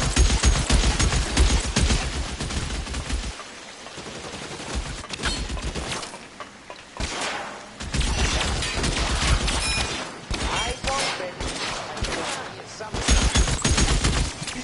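Dense, chaotic gunfire in a multiplayer shooter video game, many weapons firing at once in loud bursts with short lulls, continuing through most of the stretch.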